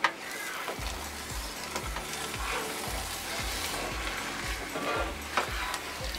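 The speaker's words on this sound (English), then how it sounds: "So every now and then we're just going to give it a flip. Well, not a flip, but a stir." Seafood omelette frying in a pan while being stirred, a steady close sizzle punctuated by regular soft thumps and scrapes of the utensil roughly every half second, with no talking.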